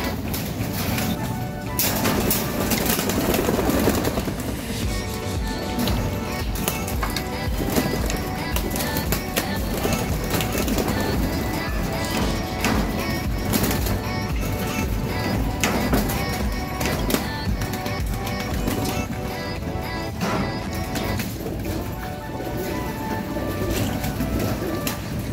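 Pigeons released from a loft flutter and coo steadily through a dense, busy mix of bird sounds, with faint voices beneath.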